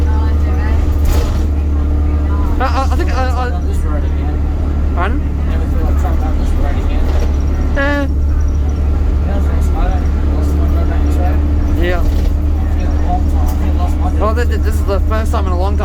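Riding aboard a MAN 16.220 bus, a constant low engine and road rumble fills the cabin, with steady vibration and occasional rattles. Passengers talk close by over the drone.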